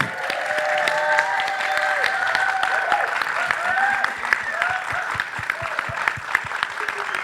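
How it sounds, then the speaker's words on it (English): Audience applause at a live talkback event breaks out in a sustained round of clapping, with sharp individual claps standing out near the end as it thins. Voices and cheers rise faintly within the crowd. "Give them a round of applause."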